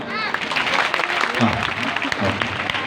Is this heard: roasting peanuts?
no